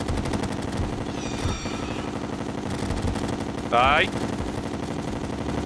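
Rapid, rhythmic automatic gunfire from Terraria during a Master-mode boss fight against the Empress of Light, continuous bursts under game music and effects, with a brief bright sparkling effect and a short voiced exclamation over it.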